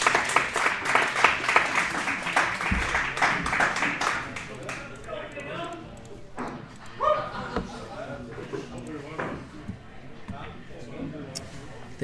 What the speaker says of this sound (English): I think the guy who bought Oscar in the Calcutta was cheering up back there